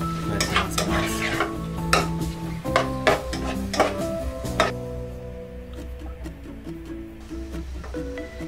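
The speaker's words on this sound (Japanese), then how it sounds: "玉ねぎを入れてから、それをちょっと混ぜます" Onions being stirred in a pot for a Sri Lankan chicken curry, with repeated close metallic clanks and scrapes of a utensil against the pan in an irregular rhythm over a soft sizzle, thinning out in the last few seconds; no voices.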